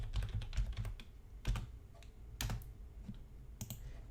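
Typing on a computer keyboard while entering text in a building design program: irregular bursts of sharp close key clicks with short gaps between keystrokes.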